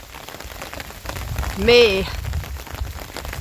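Steady rain patters on surfaces outdoors as a continuous soft hiss, with a short burst of voice in the middle.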